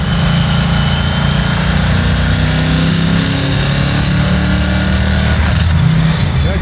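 A 755 hp LT5 V8 in a 1967 Chevy Camaro restomod rumbles steadily from close by, a deep continuous engine drone with a brief rise in revs near the end.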